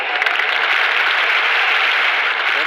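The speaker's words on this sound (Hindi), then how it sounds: "प्लीज जोरदार तालियों के साथ स्वागत कीजिए" An audience on stage applauds in welcome, a steady, dense wash of clapping that stays loud and even for the whole stretch with no one speaking over it.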